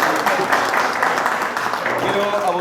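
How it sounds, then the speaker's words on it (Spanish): A lecture audience in Peru gives a loud, sustained round of applause, a dense wash of clapping that holds steady from start to finish. "Un fuerte aplauso"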